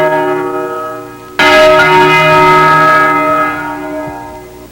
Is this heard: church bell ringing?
yes